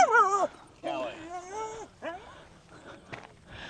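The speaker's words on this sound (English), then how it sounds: "That puppy definitely wanted to come out and play." A puppy whimpers in a few high, wavering whines, close and fairly loud, with brief pauses between them and fainter whines trailing off at the end.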